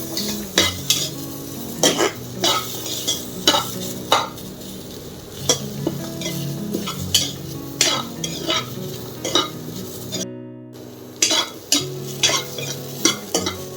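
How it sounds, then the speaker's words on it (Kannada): Onion, ginger, garlic and coconut dry roasting in a pan without oil for Mangalore-style clams sukka, with sharp, rhythmic scrapes and clanks of a metal spoon against the pan over a light sizzle. The sound cuts out briefly once. "ಈಗ ಆನಿಯನ್ನು, ಶುಂಠಿ, ಬೆಳ್ಳುಳ್ಳಿ, ಕೋಕೋನಟ್ಟು ಎಲ್ಲ ಹಾಕ್ಕೊಂಡು ಇದನ್ನು ಡ್ರೈ ರೋಸ್ಟ್ ಮಾಡ್ಕೊಬೇಕು."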